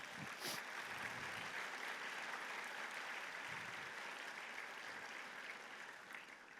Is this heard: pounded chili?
no